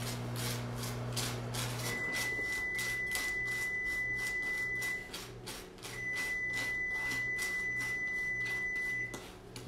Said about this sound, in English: the buzzer means that our bacon's ready